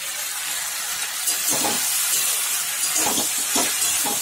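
Onion, potato, okra and spices sautéed together in a pan, a steady hissing sizzle with a few brief scraping stirs, close and continuous.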